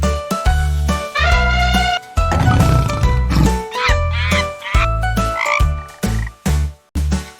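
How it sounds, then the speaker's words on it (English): A frog croaks loudly in a series of short, bouncy, tonal calls, some stretched into longer rasping bursts, closing with several clipped croaks spaced apart. "I leap and sing a ribbit song"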